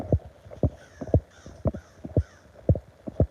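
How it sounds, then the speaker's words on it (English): A crow caws about ten times in a steady, evenly spaced series of sharp, loud calls close by, with no other voices. "That crow disagrees."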